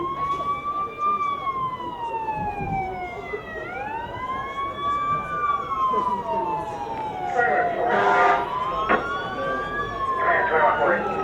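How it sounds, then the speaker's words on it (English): An emergency vehicle siren wails loudly in long rising and falling sweeps, then switches to a faster warble, over the rumble of road traffic. "use siren."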